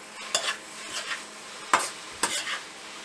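Grated beetroot for halwa is stirred and fried in a pan, giving a soft sizzle broken by four or five sharp scraping strokes of the spoon at irregular intervals.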